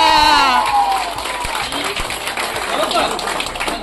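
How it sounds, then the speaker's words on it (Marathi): A crowd at a village jayanti festival in Angavli, honoring Ambedkar and Buddha, breaks into applause after a speaker's voice. The sharp individual claps are close and sit over steady crowd noise for several seconds. "यस टाळ्या."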